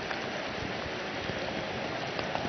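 Hail and rain pelting a football stadium during a Tractor versus Lekhwiya Champions League match, a dense, steady hissing roar with no breaks and no voices.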